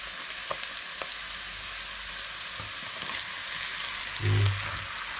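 Half a kilo of ground beef frying in a pan for spring roll filling with vegetables, a steady, even hiss of sizzling fat with a soft low thump near the end and no talking.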